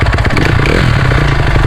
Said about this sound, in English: there's a kickstart that flings out to start the engine